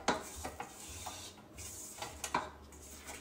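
A spatula scrapes down the sides and bottom of a mixing bowl of lemon shortbread cookie dough, making a string of short, close rubbing strokes at an uneven pace.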